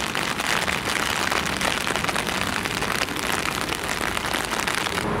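Rain falls steadily on the streets of Bruges, Belgium: a dense, close hiss of drops pattering on hard surfaces, unbroken and even, with no voices over it.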